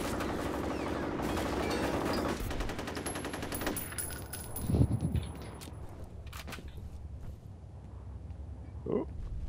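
Rapid automatic gunfire in a F.E.A.R. Combat deathmatch on a factory map, a sustained loud rattle of shots that fades into scattered impacts, with someone talking over it.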